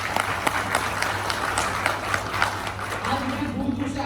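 A crowd claps steadily in dense, continuous applause, with a voice faintly audible underneath toward the end.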